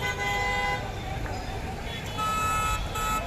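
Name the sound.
vehicles honking as a crowd returns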